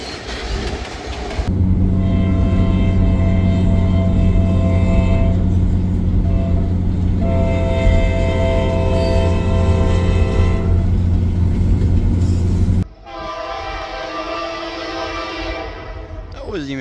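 A loud passing freight train rumbles and clatters steadily nearby with a long sustained horn blast, then the sound cuts to a different tone near the end as cars keep rolling; voices chatter faintly underneath.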